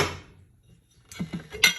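Dishes and a Corningware lid are shifted around inside a Novete countertop dishwasher, giving a few close, light clinks and knocks after a quiet stretch.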